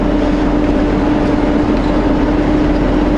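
A truck engine holds a steady, loud drone on a steep downhill grade, a constant low rumble with broad road and wind noise and no change in pace, with nobody talking.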